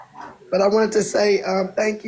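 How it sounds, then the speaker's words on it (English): A dog that had bitten someone barks and yips in several short bursts indoors, partly under a person talking nearby. "That's the dog that bit me, y'all."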